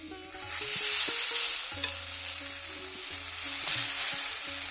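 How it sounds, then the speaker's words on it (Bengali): Eggplant slices sizzle in a frying pan, a steady close frying hiss with occasional stirring and scraping of a spoon, and no voices. "এখন আবার বেগুন দিয়ে দিচ্ছি ফ্রাই প্যানে"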